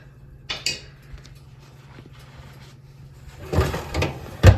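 Baked granola oats being tossed and spread around on a baking tray, heard as scattered scraping and rattling, faint at first and then a louder burst of clattering toward the end.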